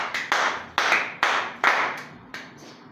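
A handful of separate bursts of hand clapping at a church service, each one loud and fading quickly, coming in an uneven rhythm with no voices.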